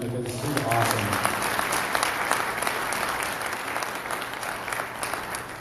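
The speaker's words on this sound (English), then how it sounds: "a big round of applause for him" Applause for the chairman erupts at a 2A Idaho governor candidate forum, starting as a voice finishes speaking and then rolling on as broad, sustained clapping from many hands that slowly eases off.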